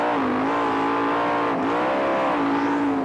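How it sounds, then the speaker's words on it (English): World of Outlaws sprint car engines race at Knoxville Raceway in 1995, a loud, continuous high-pitched roar with the pitch rising and dipping as the cars work through the corners. "Look at Steve go to the high side in that green number 11 car"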